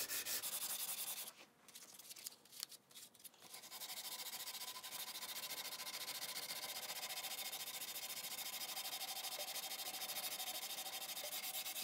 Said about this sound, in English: see how nice that's cutting, so that's a good sharp piece of sandpaper